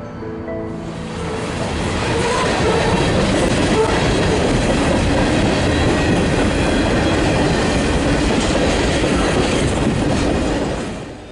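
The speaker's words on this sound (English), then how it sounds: "As the train finished passing through the Range Road 253 crossing" A CN GP40-2LW freight locomotive and train rumble past at close range over a level crossing, a loud continuous roar with rhythmic clatter of wheels that swells and holds, then begins to fade.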